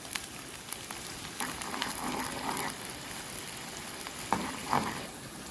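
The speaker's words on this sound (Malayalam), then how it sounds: "2 സബോളയാണ് കട്ട് ചെയ്ത്, ജസ്റ്റ് ഒന്ന് വാട്ടിയെടുക്കാൻ മാത്രമാണത്" Sliced onions sizzle and fry steadily in hot coconut oil, a soft continuous crackle with occasional brighter pops and stirring scrapes, close and fairly quiet with no talking.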